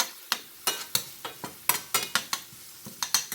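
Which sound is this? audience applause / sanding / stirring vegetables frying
stirring vegetables frying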